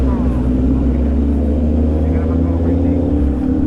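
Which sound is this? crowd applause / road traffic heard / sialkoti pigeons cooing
road traffic heard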